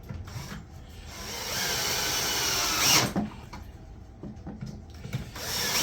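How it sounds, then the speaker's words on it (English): A power driver sinks pocket hole screws into wooden side-table parts with a rising, whirring grind that peaks midway, then short mechanical bursts, close and fairly loud, with no talking. "Now I can throw some pocket hole screws in there and buckle them down."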